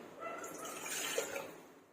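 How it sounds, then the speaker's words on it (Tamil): Water is poured from a tumbler into a cooking pot for sweet pongal, a soft, steady stream with faint splashing that swells gently and then fades, with no talking. "1 டம்ளர் அரிசிக்கு 4 டம்ளர் தண்ணி ஊற்றுறேன்."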